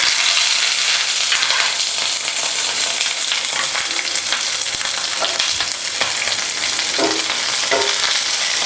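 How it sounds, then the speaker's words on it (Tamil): Small onions, sliced green chillies and curry leaves sauté in a hot pan with a loud, dense, continuous sizzle and crackle, broken by scraping stirs near the end; nobody speaks. "இந்த வெங்காயம் செவந்து வர அளவுக்கு வதக்கி விடலாங்க."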